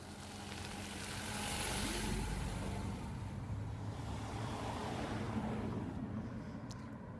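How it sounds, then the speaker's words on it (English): A vehicle passing on narrow Colpit Road near Winter Hill, a broad low engine and tyre rumble that rises and holds as it goes by, heard from close by with wind-like noise and no speech. "I'll just let this vehicle pass here that's coming up behind me"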